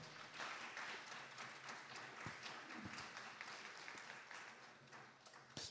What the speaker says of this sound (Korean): 우리 조미도 목사님 나오실 때 여러분 힘내시라고 우리 박수로 환영해 드리겠습니다